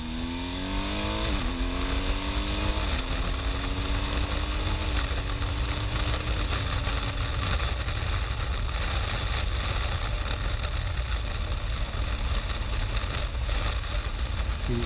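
BMW R 1250 GS Adventure motorcycle ridden on dusty gravel roads, the engine revving up through several gear changes and then holding a steady drone under constant wind and road rush, close and loud.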